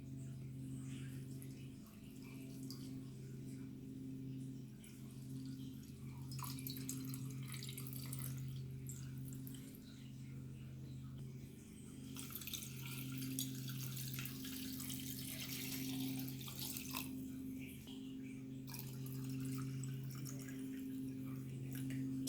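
Water runs from a tap and pours into a glass vase holding flowers, a soft steady trickle and splash over a constant low electrical hum, quiet and continuous, rising slightly near the end.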